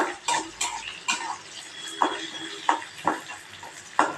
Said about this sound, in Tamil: இப்போ இந்த ஸ்டேஜில் காஞ்ச மிளகாய் போட்டுருக்கேன்.